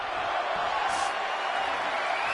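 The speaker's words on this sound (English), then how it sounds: "They're cheering one more time." A crowd cheering in a WWE wrestling video game, a steady roaring wash of arena noise with a brief swell of whoops near the middle.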